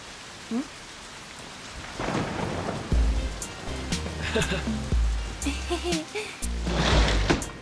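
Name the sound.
rain and thunder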